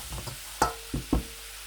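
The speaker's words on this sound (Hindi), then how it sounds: "सोया सॉस को अच्छी तरह मिक्स करके" Chicken noodles being stir-fried with soy sauce in a pan, with three sharp utensil knocks and stirring scrapes over a faint sizzle, close and alone without talk.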